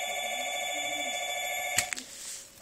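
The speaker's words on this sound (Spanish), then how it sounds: "Pues ahora tengo que cortar el video porque sonó el teléfono" An indoor telephone rings with a steady, bright electronic tone that holds for nearly two seconds, then cuts off abruptly, leaving quiet room noise and a few faint knocks.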